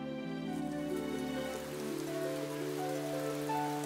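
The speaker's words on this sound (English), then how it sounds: "It's raining so hard." Dense, steady patter of heavy rain falling on a surface, a continuous wash of drops with a low hum beneath.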